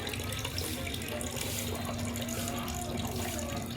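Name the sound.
water being poured out and refilled to soak rice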